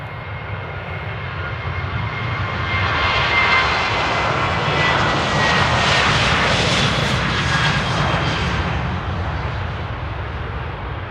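A loud jet airliner roars through its takeoff at Amsterdam Airport, a broad continuous rumble that swells toward the middle and holds, close and alone with no voices.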